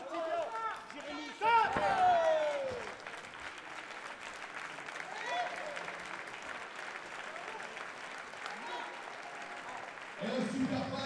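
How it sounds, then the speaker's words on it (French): A fight crowd at a combat sports event applauds and cheers after the opening round, clapping and shouts surging early then settling into a steady background under continuous excited commentary. "On applaudit très très fort dans cette première reprise"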